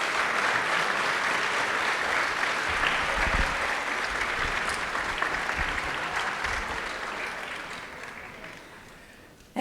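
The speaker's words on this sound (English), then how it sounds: "A round of your applause, thank you." A school board meeting audience breaks into sustained applause for honored students, a steady wash of clapping that carries on for several seconds before cutting off abruptly at the end.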